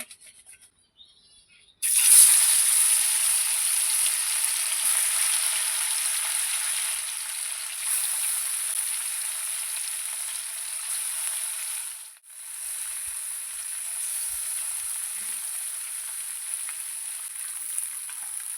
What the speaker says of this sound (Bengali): তেলটা ভালো করে গরম হয়ে গিয়েছে, এবার আমি মাছগুলো ভেজে নেব।